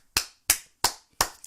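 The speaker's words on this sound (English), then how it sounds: "That wasn't a sarcastic clap or anything." Four sharp, sincere hand claps ring out close and alone at an even, deliberate pace, each a crisp snap that decays quickly into silence.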